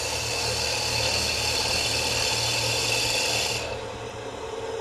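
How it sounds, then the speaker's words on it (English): A drill bores a hole into a salt shaker with a steady, loud grinding rasp for nearly four seconds before cutting off, leaving a quieter hum. No one speaks. "And you just drill a hole."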